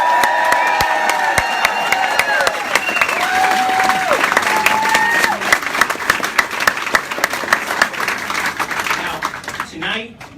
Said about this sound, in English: let's give a round of applause to the current Supreme Court plaintiffs